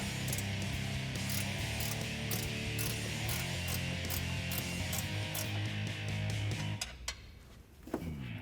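A socket ratchet loosens the factory muffler bolts under a Jeep Wrangler JL 2.0L, its dense rapid clicking running steadily and close for about seven seconds before stopping, followed by a few faint clinks.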